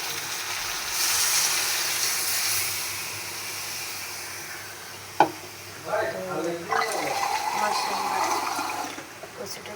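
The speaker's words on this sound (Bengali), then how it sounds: "এখন আমি এখানে ঝোল দিয়ে দিচ্ছি।" Broth pours into a pot of taro and hilsa fish curry, a steady watery hiss and splash that swells and fades, with a brief clink and someone speaking over it.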